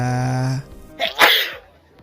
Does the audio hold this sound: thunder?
no